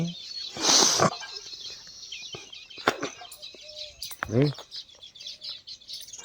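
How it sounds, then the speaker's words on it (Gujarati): Weaver birds and sparrows chirp and twitter in scattered short calls, with a burst of wing flutter and occasional voices nearby. "તો સરસ મજાના પક્ષી કલબલાટ કરે છે"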